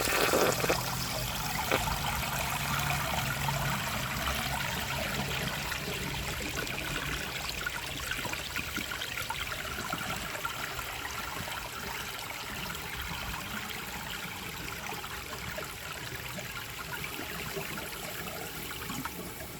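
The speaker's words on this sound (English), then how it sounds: "Now let's see how it flushes with a clogged siphon jet." A 1951 Standard Cadet toilet with a clogged siphon jet flushing, a continuous rushing, swirling wash of water that holds steady for the full length and tapers only slightly, close by with no voices.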